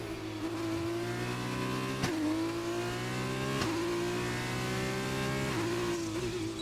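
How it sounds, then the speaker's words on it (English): A Formula 2 car in a racing video game revs hard, its high, buzzing engine note climbing steadily and then dropping sharply at each upshift, with about four quick gear changes heard clearly and alone. "I really like the sound when the engine makes when you shift up here"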